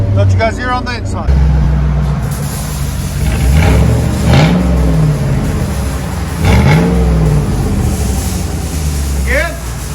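A Chevy Tahoe 5.3L V8's exhaust heard from inside the cab, a low steady idle rising into two deep revving swells, with some talking in the background.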